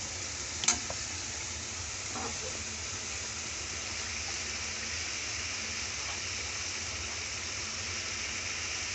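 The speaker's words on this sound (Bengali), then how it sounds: "মশলাটা আমরা কষানোর জন্য এখন নাড়াচাড়া করে একটু পেঁয়াজ বাটা দিয়ে দেব।" Spice paste being stirred and fried for a chickpea curry, with onion paste about to be added; a steady soft sizzle throughout, with a couple of faint clinks of a spoon against the pan near the start.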